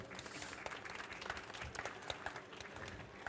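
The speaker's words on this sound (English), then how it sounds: "let's just have a round of applause for our panelists today." A crowd applauds steadily for a discussion panel at an art fair, many hands clapping together in a dense, even patter that holds for a few seconds.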